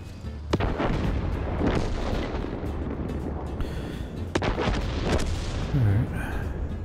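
Artillery fire in a war video game, sharp booming shots at intervals over a steady rumbling battlefield din, with a few distant blasts and a muffled thud between them.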